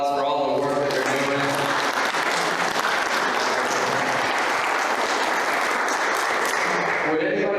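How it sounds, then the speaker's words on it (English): Applause from a church audience at a mission-partner service, a dense, steady wash of clapping filling the room for several seconds, with a voice speaking over it at the start and again as it fades. "Can we just give them an applause for all the work that they're"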